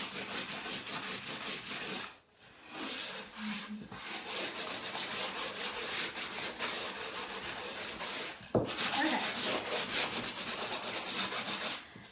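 Wood for a mini ladder is sanded by hand in a continuous, close, scratchy rubbing that goes on with only brief pauses.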